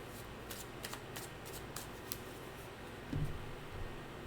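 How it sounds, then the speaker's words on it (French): Cards shuffled and drawn for a tarot-style reading, a series of quick crisp riffling flicks at close range, followed by a soft thump as cards are set down, no voices. "Ben, en fait, je vais sortir deux cartes"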